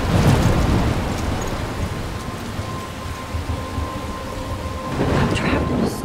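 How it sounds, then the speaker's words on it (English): Loud thunder rumbles through a rainstorm in the game Life is Strange, steady rain pouring on surfaces with deep rolling booms at the start and again near the end, no voices. "I'm trapped in a storm."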